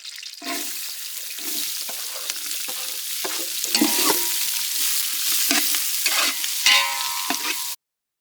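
Onions sizzle and crackle steadily in a hot pan, with repeated scraping stirs of a spoon throughout; no talking.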